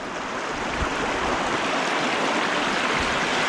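A flowing stream at a riverbank near a village, a steady broadband rush of water that stays close and even throughout, with a couple of faint low knocks.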